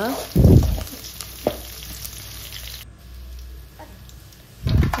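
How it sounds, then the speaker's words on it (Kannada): Crushed garlic fries in coconut oil for a spicy Mangalorean chicken sukka, giving a faint, steady sizzle broken by a couple of short, louder bursts near the start and end. "ಬೆಳ್ಳುಳ್ಳಿ ಜಜ್ಜಿದು ಅವೆಲ್ಲ ತಾರದೆಣ್ಣೆಡು ಫ್ರೈ ಮಲ್ಪೋಡು ಕೆಂಪು ಬರ್ಪುನ ಮುಟ್ಟ"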